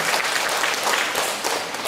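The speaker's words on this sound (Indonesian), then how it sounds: "kita berikan tepuk tangan yang meriah terlebih dahulu kepada para pemenang kita" Audience applause for the winners at the Festival Sastra Marah Roesli 2025 literary seminar: a dense, steady wash of many hands clapping, fairly close and loud, sustained throughout without a break.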